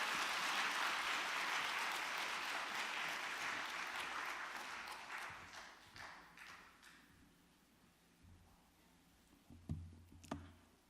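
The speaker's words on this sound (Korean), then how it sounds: "우리 목사님 나오실 때에 박수로 환영합니다." A church congregation applauds to welcome a pastor at a Sunday afternoon service. Soft, distant clapping forms a steady wash that gradually thins and fades, ending in a few scattered taps.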